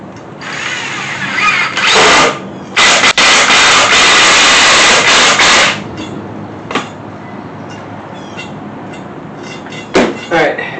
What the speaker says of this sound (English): I'm just going to put 2 screws in, one on each side